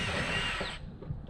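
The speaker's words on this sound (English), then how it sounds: "Let's drill another one right there on it." A power drill whirs steadily for most of a second, then cuts off abruptly, leaving a brief low rattle.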